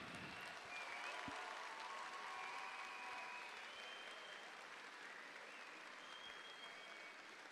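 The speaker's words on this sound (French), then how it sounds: "Et je voudrais qu'on les applaudisse également," Audience applause at a graduation ceremony fills the hall, a dense steady wash of many hands clapping that holds strong throughout and eases only slightly toward the end.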